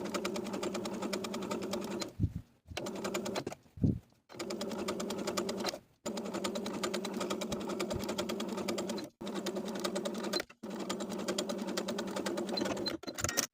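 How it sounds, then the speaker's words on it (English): Sewing machine understitching the facing of a vintage drop-waist dress neckline to its seam allowance, running in steady bursts of fast stitching broken by several short pauses, close and alone with no talk. "we're going to sew the facing to the seam allowance 1/8 of an inch away from the stitching line"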